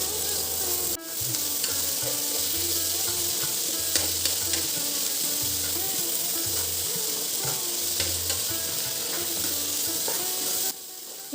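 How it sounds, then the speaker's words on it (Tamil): Turkey berry chutney ingredients sauté in a pan with a continuous loud sizzle, punctuated by rhythmic scraping stirs of a spatula, close up and without talk. "எல்லாத்தையும் ஒரு அஞ்சுலேருந்து பத்து நிமிஷம் வரைக்கும் வதக்கி விடுங்க"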